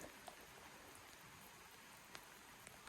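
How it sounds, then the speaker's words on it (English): Steady light rain falls outside during a quick shower, a soft continuous hiss with a few scattered sharper drips, heard alone and fairly faint. "Still raining."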